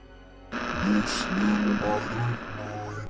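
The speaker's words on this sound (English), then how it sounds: "Flowed through static." Radio static from an old radio, a sudden burst of hissing, crackling noise with a humming undertone and faint warbling tones, steady and close after a brief quiet start.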